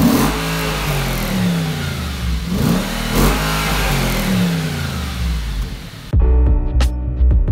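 Audi RS4 engine blipped with the exhaust valves open: loud, rasping revs rising and falling in repeated surges, then a sharp cut to a quieter idle with a few crackles near the end. No talking.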